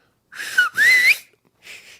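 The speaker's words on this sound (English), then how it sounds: "I can do like a bunch of whistles." A person whistles loudly and close by, with a short rising note, a longer sliding tone, then a brief fainter whistle after a pause.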